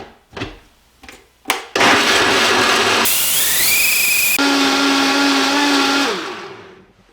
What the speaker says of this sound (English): you add the cashews to a high power blender, and then 4 cups of water